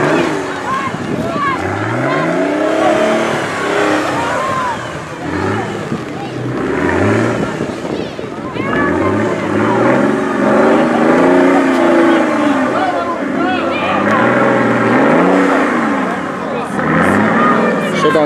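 A Bizon 4x4 off-road vehicle drives and revs at a 4x4 season-closing event, engine pitch rising and falling in repeated sweeps, loud and close, with a voice talking over it.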